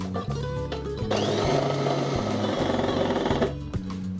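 A countertop blender whirs loudly through broccoli and chicken thighs, its motor starting at about one second, holding a steady churning grind for over two seconds, then cutting off, with brief clatters before and after.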